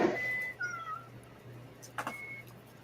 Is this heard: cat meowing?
yes